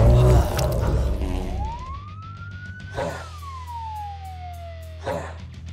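A video game ambulance siren gives a single rising and falling wail over a low engine drone, with sharp bursts of game effects around it.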